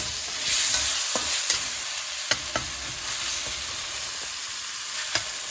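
Tomatoes and spices frying in a pan for brinjal curry, a steady sizzle with occasional sharp scrapes and clicks of a spoon stirring, close and continuous.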